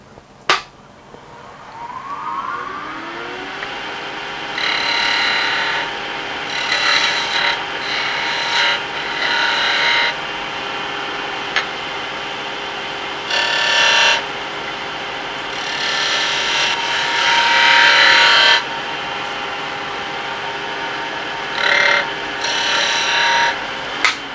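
A wood lathe hums steadily while a cutting tool scrapes against spinning wood in repeated bursts, loud and close, with no talking.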